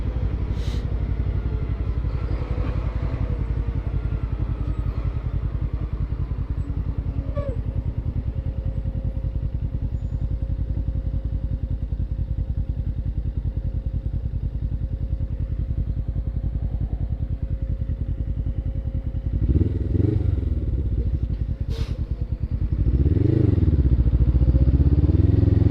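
A Suzuki SG500 motorcycle engine runs steadily and loudly up close for the whole stretch, a continuous low rumble, swelling briefly near the end with a few clatters and knocks.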